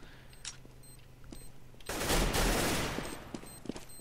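Counter-Strike gunfire on the de_inferno map in a professional mousesports versus NiP match: a dense, loud burst of rapid shots erupts midway and rings for about a second, with scattered quieter shots and clicks before and after.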